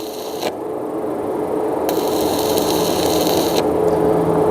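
Arc welding with 1.6 mm electrodes on a steel profile, run as a vertical weld. The arc gives a steady, close crackling hiss that stays even for the whole stretch, with brief sharper bursts along the way.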